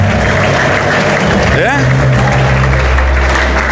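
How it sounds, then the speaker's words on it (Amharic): A church congregation at a prophecy service bursts into loud, sustained applause mixed with ululating voices, a dense crowd roar filling the space with a brief rising warble partway through. "እልልታ ጭብጨባ ለዚህ ጌታ ይሁንልን።"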